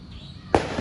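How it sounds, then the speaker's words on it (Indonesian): A single sharp firecracker bang goes off outdoors in a park, a sudden loud crack after a low background murmur, followed by a brief ringing tail. "tuh merconnya ada kembang api juga tuh"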